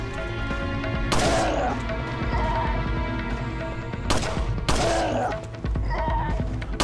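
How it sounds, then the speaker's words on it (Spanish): Pistol shots ring out in the Resident Evil 4 remake, with several sharp, loud bangs standing out over a steady backdrop of game music and effects. "Parece que le di una colleja, con el disparo de pistola"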